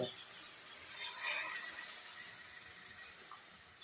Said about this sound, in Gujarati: તો ગરમ પાણી તો નાખી દીધું